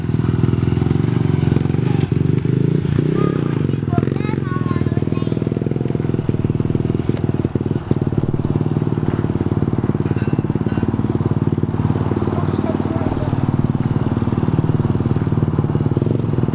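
A mini dirt bike engine drones steadily and loudly throughout a ride, with clattering and scraping mixed in.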